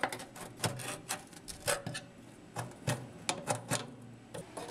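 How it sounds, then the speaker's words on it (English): Sharp metallic clicks and scraping taps as a screwdriver pries grease-caked burner tubes off their mounts on a gas barbecue grill, in an irregular run of close, crisp knocks with short pauses between. "I'm going to use a screwdriver to help pry the tubes off their mounts"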